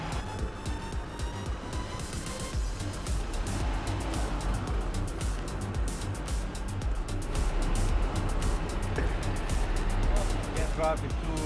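An off-road vehicle drives through water in first gear at an overland show, its engine rumbling steadily with splashing and sloshing, while people talk over it throughout.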